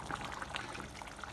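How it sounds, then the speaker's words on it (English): Staff chicken curry in the BIR-style Murgi Salan simmering in a pot, a steady low bubbling with soft irregular pops and gurgles, close and fairly quiet, with no talking. "our staff chicken curry has been bubbling away nicely"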